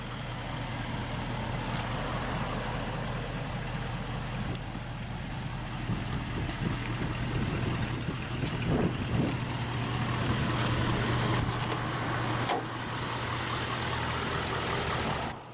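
A 2011 Ford F-350 Super Duty Lariat crew cab, lifted, with a Powerstroke 6.7-liter turbo-diesel V8 idling steadily at close range, giving a constant low rumble with a faint ticking clatter on top and no voices.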